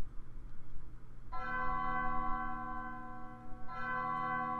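A bell tolls in the video game Undertale, two sustained rings with long shimmering harmonic decays, the second starting after the first has faded partway, over a low background hum.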